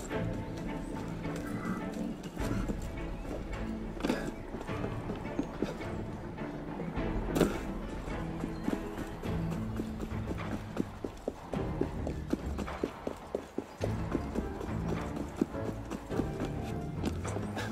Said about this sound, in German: Wer führt denn bloß diese Kutsche?